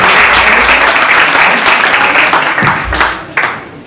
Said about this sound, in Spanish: Agradecemos la presentación del secretario ejecutivo de la Agencia de Calidad, don Carlos Enrique, con un fuerte aplauso